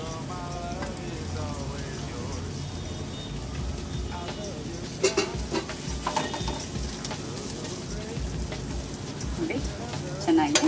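Cluster beans with grated coconut, garlic, curry leaves and coriander frying over medium flame in a pan for a Gorikayi palya stir-fry, a steady close sizzle with light stirring scrapes throughout, under quiet talk.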